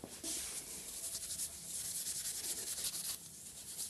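Steel wool scrubs rust off the slide plate of a Pro Cut on-car brake lathe in a steady, close, unbroken rasping rub that lasts throughout with no talking.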